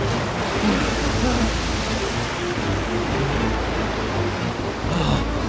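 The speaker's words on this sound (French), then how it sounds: "Les vagues sont très grandes!" Huge ocean waves in a violent storm at sea around a small sailing boat, a loud, continuous roar of crashing water and wind with no breaks, close and all-enveloping.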